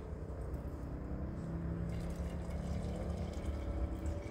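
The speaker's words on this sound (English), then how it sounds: "I'm going to add some more hot water to that." Hot water is poured into a jar of hand-dyed wool, a soft continuous wash of liquid noise, quiet and steady with a faint shift partway through.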